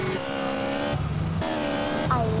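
Motorcycle engine in the multiplayer game GTA San Andreas, a steady droning whine that shifts pitch with each gear change, loud and continuous with no talk.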